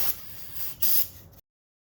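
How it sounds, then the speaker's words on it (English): Brake cleaner hisses from an aerosol can onto metal engine parts of a Nissan Frontier, in three short close bursts, with the last burst loudest before it cuts off into silence. "I'm gonna use a little brake cleaner here to clean some of the metal"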